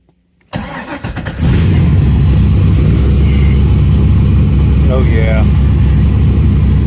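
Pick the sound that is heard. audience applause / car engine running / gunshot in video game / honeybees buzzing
car engine running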